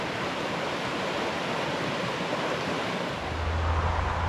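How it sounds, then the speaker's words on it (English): A creek flows beneath a bridge along a long-distance hiking trail, a broad steady rush of water that swells slightly louder near the end, with no talking. "A lot of noise, but look at this beautiful creek."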